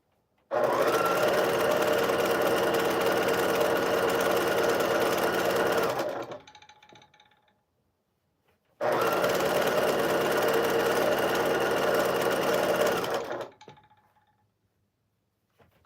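A sewing machine with large full-size thread spools runs steadily while stitching quilt strip sets, two long continuous bursts of rapid mechanical whirring separated by a pause, close and loud with no talking.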